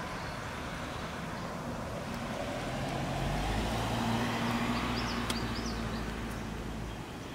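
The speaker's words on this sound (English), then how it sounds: "We got a car coming here." A car approaches and drives past on a road outdoors, a faint, distant hum that swells gently toward the middle and then fades, with traffic noise and a bird in the background.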